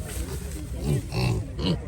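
Several short, low grunts from piglets come in bursts close by, mixed with people talking in the background.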